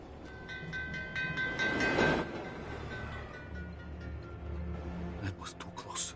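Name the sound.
moving train in Assassin's Creed Chronicles: Russia video game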